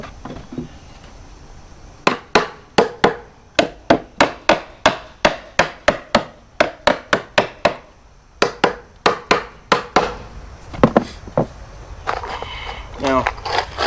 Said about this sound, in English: only put 1 or 2 nails on each side until I get it all put together, and then I'll finish nailing it together.